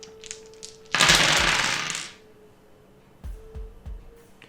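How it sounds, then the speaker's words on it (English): A handful of dice clatters onto a table in a Vampire: The Masquerade tabletop session: a few light ticks, then a loud burst of rattling that tumbles for about a second, followed by several scattered sharp clicks as dice settle, close by. "I just gotta roll a lot of dice for this."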